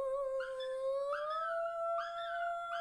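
A dog howls in a long, tuneful, singing way, its drawn-out pitch rising and wavering through several swells, close and clear with no talking.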